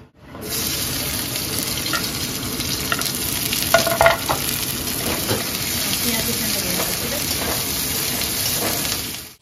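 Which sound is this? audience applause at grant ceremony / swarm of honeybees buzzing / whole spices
whole spices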